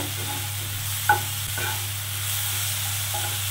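Bottle gourd peel curry being stirred and fried in a pan, a steady low sizzle with a few soft scrapes of the spoon against the metal, close and even throughout with no talking.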